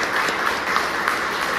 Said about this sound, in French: Vous pouvez applaudir, s'il vous plaît.